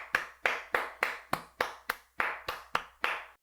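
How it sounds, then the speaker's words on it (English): Eleven sharp hand claps from one person, spaced at a slow, steady rhythm and fairly close, each ending in a short decay, with no other sound around them. "That was me clapping."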